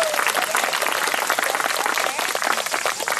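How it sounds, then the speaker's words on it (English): A crowd at a summer camp gathering applauds a visiting town mayor, loud sustained clapping close by that stays dense and even throughout, with faint voices mixed into the crowd. "Everybody give him a round of applause."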